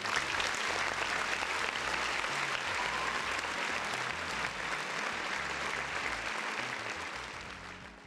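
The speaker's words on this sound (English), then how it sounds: "Round of applause." Sustained applause from a crowd, a dense even wash of clapping that holds steady and slowly fades toward the end, with no talking over it.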